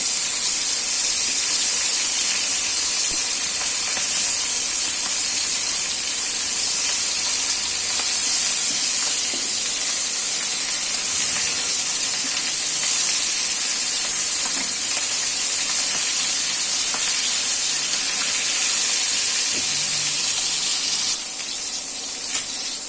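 Jhatka fish fries crisp in a pan with a loud, continuous sizzling hiss that holds steady throughout, close by, with faint stirring ticks and no voices.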